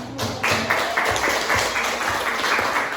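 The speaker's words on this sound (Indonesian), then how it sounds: "Kita kasih aplaus dulu untuk kelompok 4" Classroom applause for a student group, a short burst of many hands clapping together, fairly close and steady, with no voices over it.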